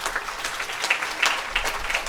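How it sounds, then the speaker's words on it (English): Audience clapping at a children's camp graduation ceremony, a steady crackle of many hands lasting a couple of seconds with a few louder surges. "Give them to a big round of applause"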